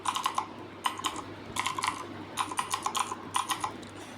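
Typing on a computer keyboard, close and clear, in quick bursts of clicky keystrokes separated by short pauses.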